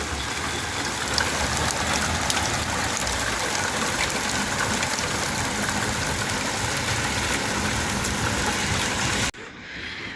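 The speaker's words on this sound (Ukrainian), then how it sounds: "ось такий в нас град сипле" Hail pours down in a heavy May downpour, a loud, dense, unbroken hiss and rattle that holds steady for about nine seconds before cutting to a quieter background.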